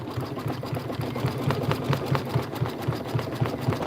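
A sewing machine stitches the outer petals of a quilt block in a fast, steady mechanical patter of rapid needle strokes, running close and evenly with no talk.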